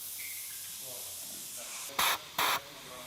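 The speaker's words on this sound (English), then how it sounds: "let's try to blow it out with compressed air" Compressed air is blown into a clogged drain on a budget Honda Civic: two short, sharp blasts of hissing air about half a second apart, following a quiet stretch of low background noise.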